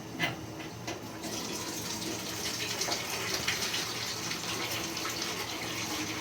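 Water draining from a steam boiler sight glass, a steady trickling and gushing flow that holds at an even level throughout, with no talk.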